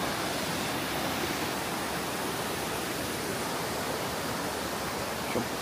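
Namaste Jharna waterfall near Dharan, a dense, continuous roar of falling water filling the scene at steady loudness with no voices.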